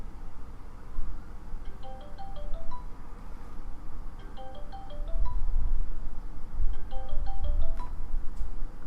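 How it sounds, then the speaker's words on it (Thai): An incoming phone call ringtone in the video game Dead Space 3 plays a short rising melodic chime phrase three times at a steady interval, over low rumbling game ambience. "โทรศัพท์เข้ามาอีก"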